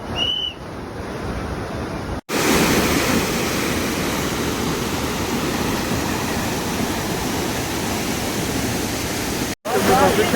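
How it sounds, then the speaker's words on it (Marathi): Fast-flowing river water rushes near Kalu waterfall in Malshej Ghat, a loud, dense, steady roar filling the scene, broken by two brief cuts, with a faint whistle at the start. "तुम्ही बघू शकता मागे पाण्याचा वेग आणि पाणी किती वेगाने जाते."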